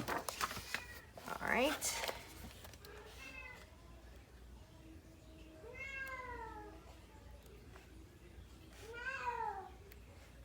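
A house cat meows repeatedly, with several drawn-out, rising and falling cries spread across the clip, some close and fairly loud, while a person talks briefly in the background.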